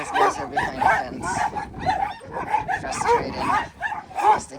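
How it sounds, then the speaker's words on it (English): Huskies behind a fence barking, yipping and whimpering in a rapid, excited run of calls, close and loud throughout. "Beautiful huskies behind the fence."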